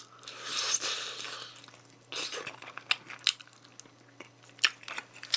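Crunchy gochu-mayo fried chicken is bitten and chewed up close, with a loud crackly first bite followed by irregular crunches and softer chewing.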